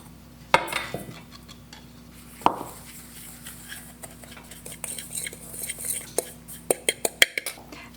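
Breadcrumbs and butter are mixed for a cauliflower pasta casserole topping, with scattered close clinks and scrapes of a utensil against a bowl, sparse at first and quickening toward the end, over a faint background hum.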